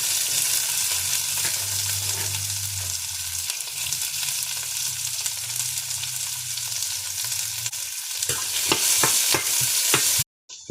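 Garlic and onion sauté in a pan with fenugreek seeds, giving a steady loud sizzle with scraping stirs. A burst of sharp utensil clacks comes near the end, then the sound cuts off.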